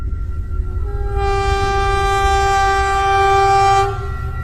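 A train starting up in an animated horror story about a zombie train: a loud, sustained horn tone sounds over a heavy low rumble, then cuts off, leaving the rolling rumble.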